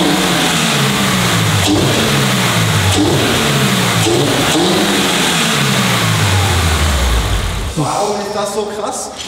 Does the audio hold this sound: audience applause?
no